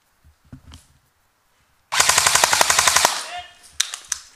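A D-Boys KAC PDW airsoft gun fires a rapid full-auto burst of about a dozen sharp cracks lasting just over a second, followed by a few scattered clicks and knocks, loud and close.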